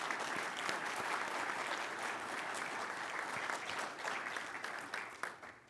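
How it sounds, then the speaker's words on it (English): A room of attendees at an all-candidates meet-and-greet hosted by the Ottawa Board of Trade gives a steady round of applause, dense clapping heard from some distance and fairly quiet, tapering off at the very end. "So why don't I have a round of applause for all the candidates in the room."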